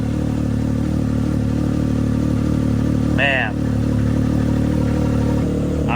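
A Can-Am X3 turbo engine idles through a trail exhaust with a steady, crisp low drone, close and loud, while a man briefly exclaims over it.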